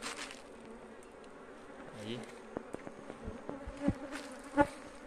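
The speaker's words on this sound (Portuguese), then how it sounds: "Tem bastante abelha aí." Honey bees buzz steadily around beehive boxes in the sun, with many insects clustering outside the hive, a dense close drone with occasional louder passes and a brief faint voice.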